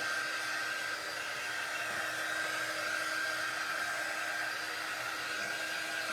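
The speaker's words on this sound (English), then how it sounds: "I'm going to heat up the wax a little bit." A hair dryer heats wax on a serving tray, blowing with a steady, unbroken whine at moderate loudness for the whole stretch, with no talking.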